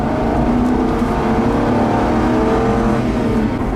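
A 2007 Mercury Grand Marquis LS with an open rear end pulls away from a stop, its engine droning loud and steady with a strong, continuous low rumble and no talk over it.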